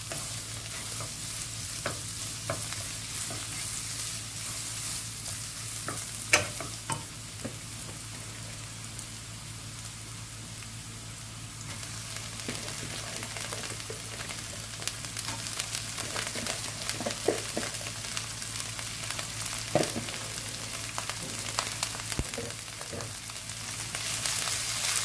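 Vegetarian glass noodles and cabbage stir-fried over high heat, a steady sizzle with intermittent scraping and clanks of a spatula on the pan, sustained and fairly close.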